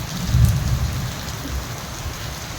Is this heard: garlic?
no